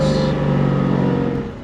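A 1956 Mercedes-Benz 300SL Gullwing pulling while driving, a loud, steady engine drone heard close for a brief moment before it eases slightly.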